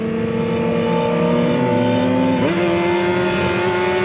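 A Kawasaki ZX-10R sport motorcycle engine revs loud and close in a high-speed run. It holds a steady, strong drone, eases down in pitch, then jumps sharply as the gear changes.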